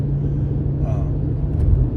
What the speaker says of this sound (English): my gosh, the truck is loud.